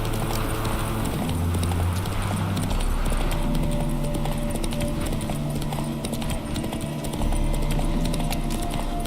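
A horse gallops in the video game The Witcher 3: a continuous, rhythmic clip-clop of hooves under a dense, steady game soundscape.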